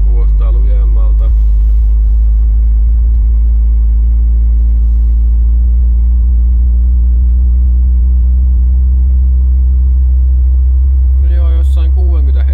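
Low subwoofer test tone around 40 Hz from the factory 100 W active subwoofer in a Fiat Punto, a strong steady deep hum held for the whole stretch, with brief voices near the start and end.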